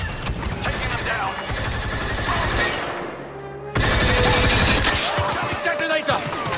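Blaster gunfire in the video game Star Wars Battlefront II: dense, rapid volleys of shots in a loud battle scene, briefly dropping away and then resuming, with voices talking over the firing.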